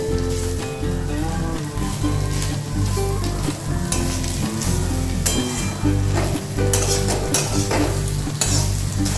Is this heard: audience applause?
no